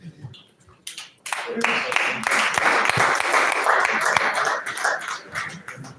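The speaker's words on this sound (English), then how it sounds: "Another round of applause for that" Following a presentation at a stakeholders meeting on a school-based deworming program, a room of people bursts into sustained applause after a quiet start with a brief voice, the clapping loud and dense for several seconds before tapering.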